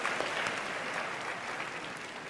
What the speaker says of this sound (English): She applauds.